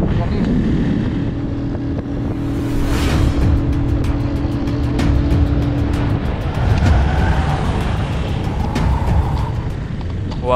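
A large truck rumbles past a motorcycle on a wide, curving mountain road between Chilete and Cajamarca, Peru, its steady engine drone close and loud under heavy wind buffeting the rider's microphone.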